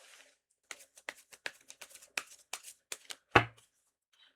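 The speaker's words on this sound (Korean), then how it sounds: "이 횡재운이 지금으로부터 언제쯤 들어오게 될지 카드를 한번 뽑아보도록 할게요" Tarot cards being shuffled and drawn: a run of quick, crisp card snaps and riffles in an uneven rhythm, close and clear in a quiet room, ending in one sharper slap.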